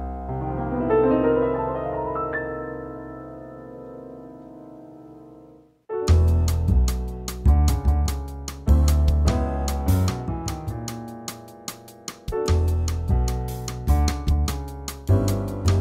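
Jazz piano sounds a sustained, ambiguous minor chord voicing that rings and slowly decays for several seconds, then gives way to louder, busier chordal playing with sharp accented hits.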